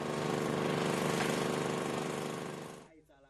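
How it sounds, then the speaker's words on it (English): Generator running steadily by a spaza shop in a settlement without electricity, a loud, dense continuous engine drone that cuts off abruptly near the end. "one generator to a spaza shop provides the only noise you'll hear"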